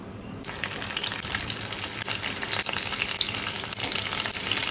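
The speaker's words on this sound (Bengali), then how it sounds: "গরম হয়ে গেছে, এবারে দিয়ে দিচ্ছি উচ্ছেগুলো" Pieces of bitter gourd sizzle and crackle in hot white oil in a pan, a loud continuous frying hiss that starts abruptly as they go in and keeps up with stirring sounds, no talk.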